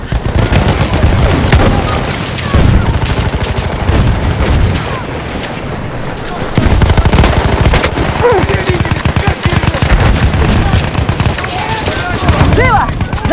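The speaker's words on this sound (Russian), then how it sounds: "Пулемет противника!" An enemy machine gun fires in Battlefield 1 on the Volga River operation, loud rapid bursts mixed with other gunfire and booms, with shouting game voices over it.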